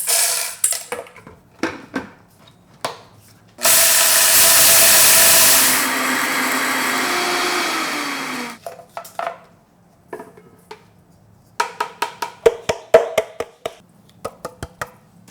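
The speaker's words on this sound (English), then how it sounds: "I have to grind the sesame seeds and green beans." A small electric spice grinder grinding sesame seeds whirs loudly for a few seconds between clinks and taps of dishes and utensils handled nearby.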